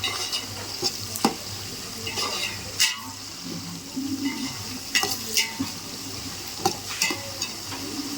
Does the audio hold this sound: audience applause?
no